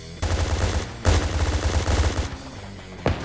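Video game gunfire in rapid automatic bursts, loud and close, with a brief pause before a final shot near the end; no voices.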